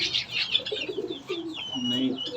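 Pigeons coo softly and repeatedly at close range, with high chirps from other birds mixed in.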